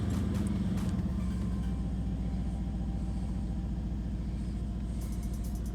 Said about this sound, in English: now it's time to fire up the car to see if this all works